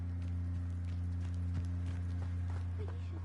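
Horse hooves clip-clop in the Hogwarts Legacy video game, a few soft, irregular footfalls heard over a steady low game hum with quiet talk nearby.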